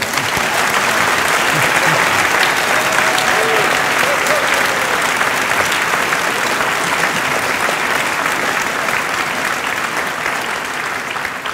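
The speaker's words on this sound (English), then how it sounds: "I would like to ask you to give a big applause to the four existing." A large audience at an international astronaut panel gives a sustained, loud round of applause that holds steady for over ten seconds, filling the hall.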